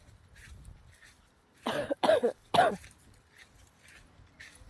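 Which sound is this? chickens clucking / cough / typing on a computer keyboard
cough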